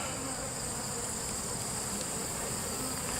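Bees buzz in a dense, continuous drone around an open beehive, close and steady with no pauses.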